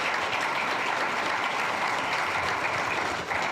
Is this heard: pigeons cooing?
no